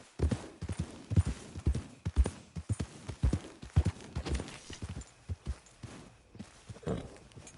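Horse hooves clip-clop in the video game Red Dead Redemption II on PS4, a run of sharp, uneven hoofbeats, close and clear, slowing and thinning toward the end.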